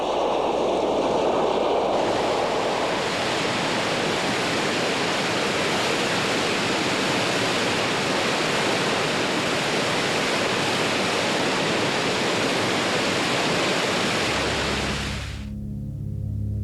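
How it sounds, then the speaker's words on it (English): Geyser of boiling groundwater erupting into the air, a loud, steady broadband roar and hiss like rushing water that holds for about fifteen seconds and then cuts off abruptly. "that heat can cause groundwater to boil and even erupt into the air."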